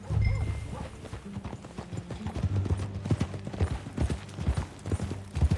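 Horse hooves clip-clop in a steady riding rhythm in the Western game Red Dead Redemption 2, close and prominent, with faint mechanical rattles and occasional snorts mixed in.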